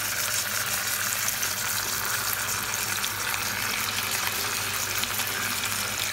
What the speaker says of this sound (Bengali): এখানে আস্তে আস্তে করে চিকেনগুলো দিয়ে ভেজে নিব